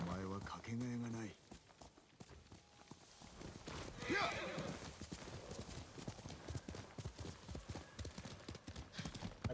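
Horse hooves clip-clop at a walking pace in the video game Ghost of Tsushima, with a brief whinny, while someone talks over them.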